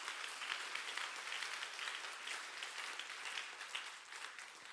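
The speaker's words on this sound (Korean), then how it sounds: "박수로 하나님께 영광을 드리겠습니다." Congregation in a Korean church clapping together, a soft, continuous patter of many hands at a moderate distance, steady throughout with no voices on top.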